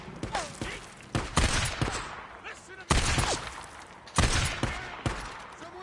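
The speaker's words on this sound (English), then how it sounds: "Let's take him out with the sniper" Gunfire from a sniper rifle in the video game Days Gone, several sharp loud cracks spaced about a second apart, each trailing off, with someone talking between the shots.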